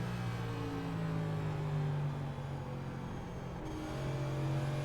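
NASCAR NextGen race car engine in a racing sim at Worldwide Technology Raceway, a steady loud drone with rising and falling revs and a short dip mid-pass as the throttle lifts and comes back on.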